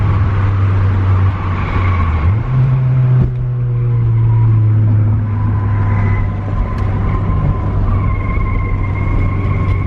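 Honda Prelude Type SH driving at low speed through a tunnel: a loud, steady engine drone fills the space, rising slightly in pitch partway through, with no talking.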